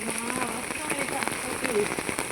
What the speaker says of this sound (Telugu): వర్షం అయితే మూడు రోజుల నుంచి ఆకుండా పడుతూనే ఉందండి